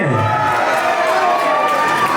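A large crowd cheers and roars continuously at the 2024 Sri Mallikarjuna temple thalapokkam contest, a loud, dense wall of voices with no pause throughout.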